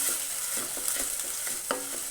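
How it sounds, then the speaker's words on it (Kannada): Onion and masala for gobi pepper dry are stir-fried in a pan, a faint steady sizzle broken by repeated soft scrapes of the spoon at an even rhythm, with no voices. "ಇದು ಇದನ್ನು ಅಷ್ಟೇ ಚೆನ್ನಾಗಿ ಫ್ರೈ ಮಾಡಬೇಕು"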